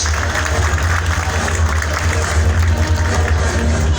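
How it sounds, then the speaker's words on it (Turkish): Audience applause at a film gala in a salon in Aydın, a dense steady wash of clapping and crowd noise throughout, with a low rumble underneath. "Savcıma bir alkış"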